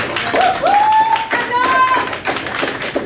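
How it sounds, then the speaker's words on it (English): People at a city council meeting clap in a round of applause of moderate loudness, with talking underneath and a brief tonal whistle-like sound partway through. "give her a round of applause because she's been incredible with us"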